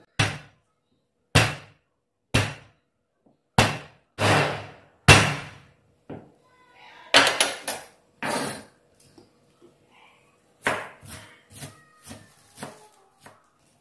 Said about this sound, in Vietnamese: Giờ mình tiến hành đập hành, tỏi này và cắt ớt luôn này. Đập xong rồi là mình băm nhuyễn nhé.